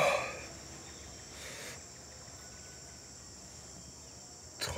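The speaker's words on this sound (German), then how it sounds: "Insekten, Frösche und andere Tiere veranstalten ein regelrechtes Urwaldkonzert" Night chorus of insects and frogs in the Amazon rainforest, a steady high, shrill buzzing drone running throughout, with a brief louder rustle near the start and end.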